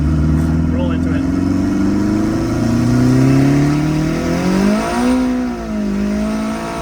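A turbocharged Honda Civic with a K20 engine accelerating hard in third gear, its note rising steadily, then dipping and climbing again, loud and close under a constant rush of road and wind noise.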